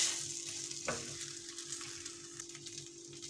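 Rice (500 g) with salt lightly toasting and being stirred in a hot pan gives a steady broadband sizzle with one sharp scrape near the start, close and continuous, with no talking.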